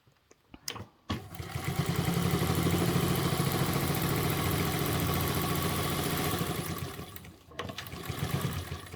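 A sewing machine stitches binding onto a duffle bag, a steady close mechanical whir that runs continuously for about six seconds after a short start, then stops briefly and restarts.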